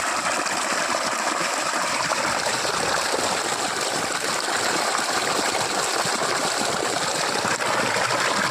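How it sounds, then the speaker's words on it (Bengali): Steady, even rush of water flowing onto a Boro rice paddy through an irrigation channel in open farmland, a continuous close gushing trickle with no pauses and no talk. "এই যে বোরো চাষ হচ্ছে, জমিতে জল দেওয়া হচ্ছে"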